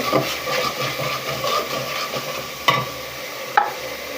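Fried fish going into spiced masala in a pan, with a steady sizzle and hiss, occasional stirring scrapes and two sharp clacks near the end.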